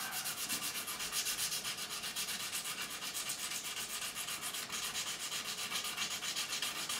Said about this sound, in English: once we hit it with a 400 grit like this